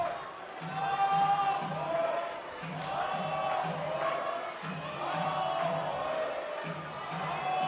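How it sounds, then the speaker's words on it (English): Baseball crowd in London cheering and shouting at a Brantford Red Sox vs London Majors game, a lively mix of voices and whoops rising and falling in waves throughout, fairly close and steady. "Crowd here in town still having a whole lot of fun of their own."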